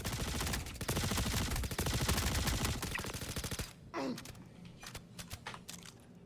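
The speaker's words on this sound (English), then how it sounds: "Who else is firing?" Rapid automatic gunfire in the space game Star Citizen, dense and loud for several seconds before cutting off, followed by scattered quieter shots and clicks.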